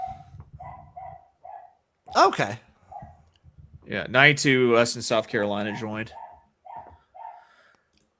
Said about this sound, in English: I hear my dog going crazy.